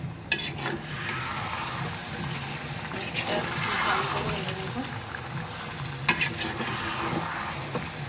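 Raw mangoes tossed into a hot pan for homemade green mango pickle, sizzling and frying with stirring scrapes and a few sharp clinks, moderately loud and close.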